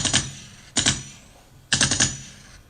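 Three sharp bursts of gunfire, each a quick cluster of cracks, ring out loud and close with short pauses between them.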